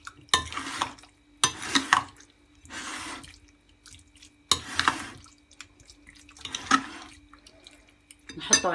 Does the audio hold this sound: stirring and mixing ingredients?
yes